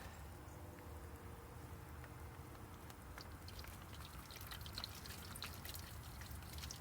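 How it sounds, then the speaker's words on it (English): Almost boiling water is poured from close by onto tree sap on a car body, a faint continuous trickling and splashing with scattered drips, quiet throughout. "So I'm going to pour some water on that."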